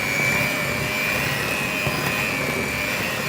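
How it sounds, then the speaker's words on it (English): An electric mixer whisking cake batter of eggs and plain flour, a continuous steady whirring drone with a constant high motor whine, close and unbroken. "At this stage you're still whisking in more air until it's nice and smooth"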